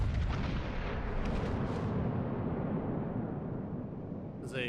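Battleship guns firing in a naval video game: a sustained, loud, rumbling barrage of cannon fire that fills the whole moment and fades slightly toward the end.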